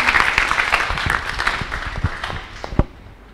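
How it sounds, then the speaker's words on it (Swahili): A church congregation applauds their Reverend with a burst of loud, busy clapping that gradually thins out into a few scattered claps and fades. "Think we can appreciate our Reverend better than that?"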